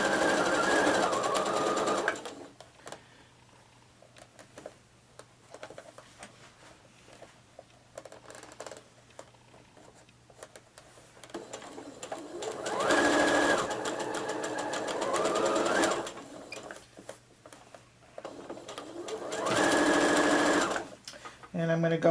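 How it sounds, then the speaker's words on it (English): Sewing machine stitching an appliqué letter along its edge on a table runner, running in steady bursts of rapid whirring that start and stop, with a voice talking quietly in the pauses between. "hold it there and stitch right along the edge."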